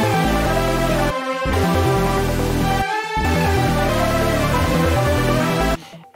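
A layered synth chord stack with arpeggio, delay and distortion plays loud and dense, its rhythmic chords pausing briefly twice before fading out at the end.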